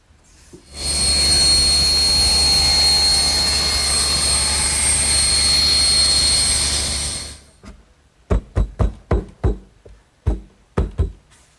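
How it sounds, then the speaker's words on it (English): A table saw with its blade tilted to 5 degrees for bevel cuts on cabinet frame stock roars loudly and steadily for about seven seconds, then winds down. A burst of sharp knocks follows, close and with no voices. "So I've set up my table saw to make all the bevel cuts with the blade also tilted at 5 degrees to match the frame."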